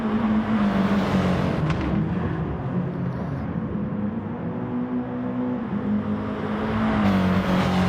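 Race cars battle on the Blue Moon Bay circuit in GT Sport, two Audis and a Subaru among them: steady engine drone with shifting pitch, rising and falling as cars pass close together, continuous and moderately loud.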